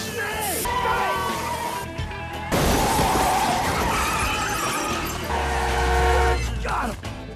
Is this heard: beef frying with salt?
no